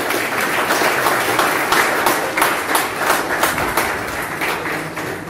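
An audience at a Marathi literary conference in Akola claps loudly and steadily throughout, a dense wash of many hands that thins slightly toward the end.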